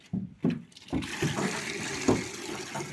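Gravity-fed water gushes steadily from an opened pipe into a horse trough, a continuous splashing pour that starts after a few clunks and runs on, fairly close.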